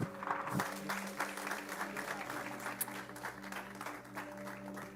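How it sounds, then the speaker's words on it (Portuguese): A church congregation claps during a worship service, sustained applause that sounds somewhat distant and soft, with held instrumental chords ringing underneath. "Dê um aplauso ao Senhor."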